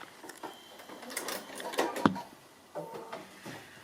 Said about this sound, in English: And then just stitching that line through the stiffening as well